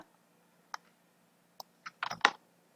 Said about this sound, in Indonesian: Jadi kita ketik misalnya hello.